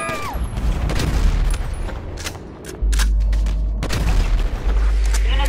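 Gunfire in Grand Theft Auto: a series of loud, sharp shots rings out with a deep booming rumble underneath, the bursts spaced irregularly across the scene.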